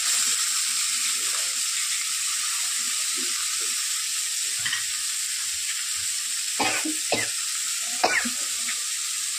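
Chillies, onions and capsicum sizzle steadily in oil in a frying pan, broken by several sharp scraping strokes of a spoon stirring the mix. No voices are heard.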